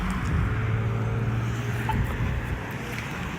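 Steady roar of a noisy city street with car traffic passing close by, a continuous broadband rumble with engine hum and some wind buffeting the microphone.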